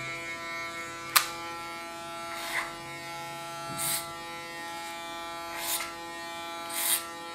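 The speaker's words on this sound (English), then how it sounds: "Play with the blades of my clipper." An electric hair clipper hums with a steady buzz while cutting hair in a salon, and a few short, brighter bursts mark where the blades pass through the hair; no speech.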